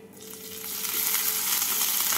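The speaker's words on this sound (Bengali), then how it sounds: "তেলটা গরম হয়ে গেছে। এর মধ্যে দিয়ে দিচ্ছি হাফ টিস্পুন জিরে, দিয়ে দিচ্ছি গ্রেট করা 1 ইঞ্চি আদা আর 2টো কাঁচা লঙ্কা।" Cumin seeds, grated ginger and green chillies dropped into hot oil for a cauliflower paratha filling, setting off a bright hiss that builds and settles into a steady, close sizzle.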